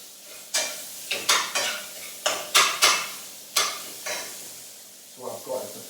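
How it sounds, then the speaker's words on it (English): A spoon scrapes meat and fish paella around a pan in a series of distinct stirring strokes, each a short rasping scrape over a soft sizzle, fairly close and separated by brief pauses. "Give it a little whiz around the pan."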